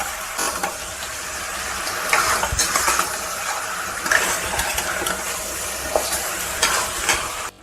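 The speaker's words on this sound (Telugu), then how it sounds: "మటన్ని బాగా వేపుకుందామండి." Mutton frying on high heat in a pan for a curry, a dense close sizzle broken by repeated scraping stirs and clatters of a spoon against the pan, no talk.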